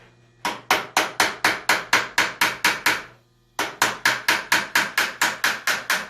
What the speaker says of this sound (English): Take my screwdriver, put it in there, give it a couple taps.